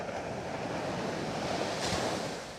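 Ocean surf and gusting wind roar together on a snowy Coney Island beach in Brooklyn at high water, a loud, continuous wash with wind buffeting the microphone.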